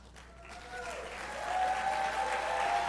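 Audience at a graduation ceremony breaking into applause that swells from scattered claps into a dense, steady round of clapping, heard at moderate distance in a large room, with a tone or feedback ringing faintly beneath.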